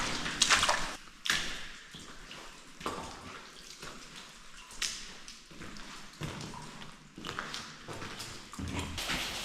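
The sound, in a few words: water dripping in a tunnel air shaft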